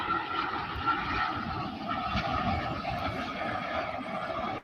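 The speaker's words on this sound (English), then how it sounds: "there's another Dreamliner coming in from Paris, from Charles de Gaulle Airport" A Boeing 787 Dreamliner arriving at DFW Airport from Paris Charles de Gaulle gives a steady, fairly distant engine rumble and broadband roar, continuous and unaccompanied by talk.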